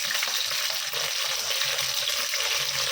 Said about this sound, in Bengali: আর কিছু রসুন ভেজে দেবো।